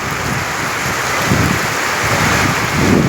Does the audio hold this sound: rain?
yes